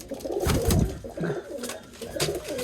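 Pigeons cooing close by, a series of soft, low, throaty coos repeating over a few seconds.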